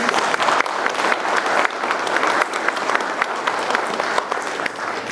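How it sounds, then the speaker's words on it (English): Dense, steady applause from a gathered audience at a farm award presentation fills the room loudly and continuously, with no break, for the award-winning Coldstream Farms. "a big thank you and round of applause for Coldstream Farms"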